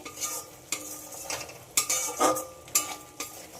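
Spice paste for an egg and potato curry being sautéed in a pan over medium heat, with a spatula scraping and stirring in uneven strokes over a soft sizzle, close by and with no voices.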